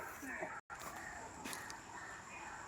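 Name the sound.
crows cawing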